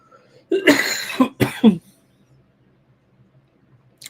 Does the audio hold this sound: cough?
yes